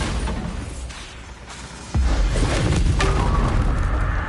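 A Bombarda blasting spell goes off in a wizarding video game, a sudden heavy boom that jumps loud partway through and leaves a dense rumbling roar ringing on, with no talking over it.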